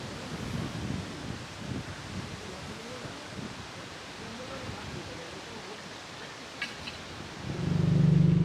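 Cool morning wind rushes and rustles across an open rock clearing at a cliffside campsite in Nong Phok, Thailand, a steady soft hiss that swells into a louder gust with buffeting at the end.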